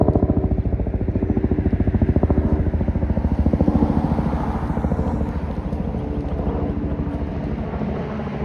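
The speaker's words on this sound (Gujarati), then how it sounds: "હેલિકોપ્ટર" A helicopter flies overhead, its rotor producing a loud, close, steady chopping beat that eases slightly toward the end, with no talking over it.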